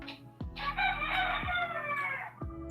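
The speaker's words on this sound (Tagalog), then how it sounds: "Saba kayo mong manok." A rooster crows in the background of an indoor group discussion, one long drawn-out call stretching for a couple of seconds over a steady low hum, with no talk over it.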